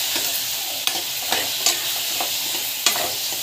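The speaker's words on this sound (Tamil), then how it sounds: "நல்லா வந்து வதக்கிட்டுக்கோங்க." Ingredients with asafoetida sautéing in a hot pan, a steady bright sizzle with a few scraping stirs of a spoon against the pan, close and alone.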